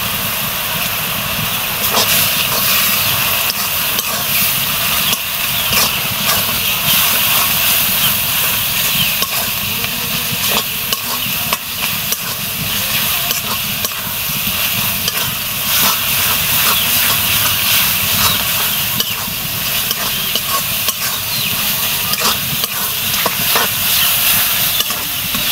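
Spice masala with ginger, garlic, cumin paste, turmeric, chili, coriander, bay leaf, cinnamon and garam masala fries loudly in a pan for beef bhuna, a dense, continuous hiss and sizzle with faint stirring sounds throughout.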